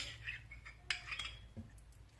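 Faint, quiet clinks of a metal spoon against a dish, a few light taps scattered over a couple of seconds.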